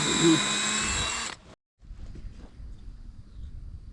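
A cordless drill with a dying battery whirs loudly for about a second and a half, then cuts out abruptly, leaving quiet rustling and faint handling noises.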